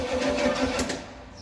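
A junkyard 1978 Pontiac 400 V8 turns over on its starter during a first-start attempt, a steady, fairly loud rhythmic churning for about a second before it drops away, with no voices.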